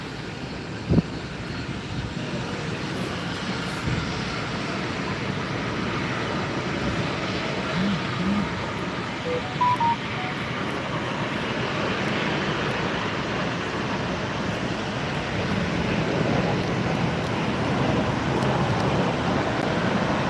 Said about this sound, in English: Here comes the E195 E2, Binter Canaria one.